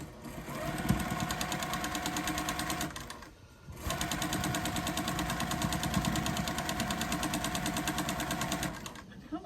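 A sewing machine stitches steadily with a noisy bobbin, while quilting 2025 Kona Cotton Solids blocks. The close, continuous mechanical whir breaks off briefly, then resumes.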